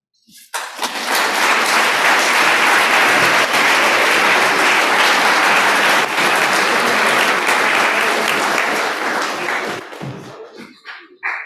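Loud, dense applause fills a school hall after senior speeches, rising quickly and holding strong for about ten seconds before tapering off, with a few final claps at the end.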